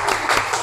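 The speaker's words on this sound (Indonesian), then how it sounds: "Kita beri tepuk tangan untuk mereka." Classroom applause for a student group, with dense clapping from several people that holds steady through a very short burst.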